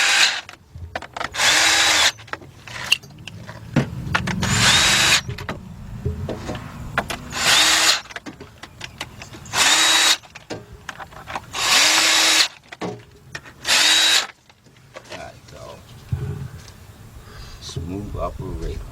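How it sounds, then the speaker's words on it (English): Cordless impact gun fitted with a 10mm shallow socket tightening bolts during a Kia/Hyundai V6 timing belt and water pump job, firing in repeated loud close bursts separated by short pauses, with someone talking between them. "take my cordless gun with my 10mm shallow on it, put it on tighten"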